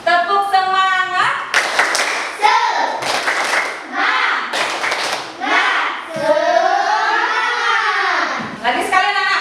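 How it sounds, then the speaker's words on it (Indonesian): Schoolchildren in a classroom perform the 'tepuk semangat' rhythmic clapping chant, bursts of clapping alternating with loud sung and chanted voices, close and energetic, with a teacher's voice leading. "mari kita tepuk semangat anak ya, biar tambah semangat ya"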